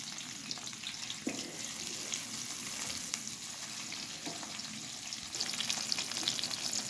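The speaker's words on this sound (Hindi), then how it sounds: "एक छोटी प्याज इसके अंदर कलर चेंज होने तक फ्राई होने के लिए रख दी है।" A small onion fries in half a cup of ghee in a pan, a steady soft sizzle with occasional stirring clinks and scrapes, fairly quiet and close, with no voices.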